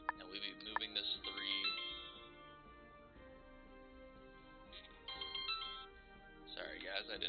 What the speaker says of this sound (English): I didn't mean for my phone to go off.